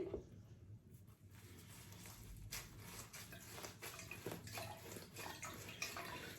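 Liquid from porter beer wort squeezed through a muslin cloth bag drips and trickles faintly and steadily, a soft watery patter with no talking.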